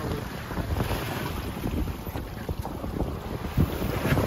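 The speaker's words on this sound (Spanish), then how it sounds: "La ola viene de lo que es la orilla para acá, el viento está soplando del noroeste." Wind and waves surround a fishing boat out at sea on a day with a northwest wind, with steady loud gusting wind noise hitting the microphone over the churning wash of the water and no speech.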